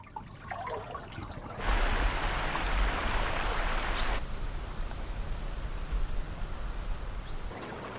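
Clean water runs along an aflaj irrigation channel in Oman, flowing down from the mountains toward a village, making a steady close trickling and rushing that swells louder partway through, with faint high drips above it.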